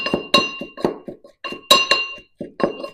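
Mortar pounding of a coconut, chilli, onion, salt and curry leaf sambal, with sharp, hard knocks and clinks in an uneven rhythm, about a dozen close strikes in quick succession.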